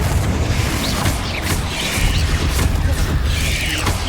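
An explosive spell blast from the Hogwarts Legacy video game, a loud booming crash layered into dense, continuous combat noise that holds steady for the few seconds.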